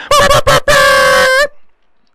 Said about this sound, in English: I guess we got to hit them with the air horns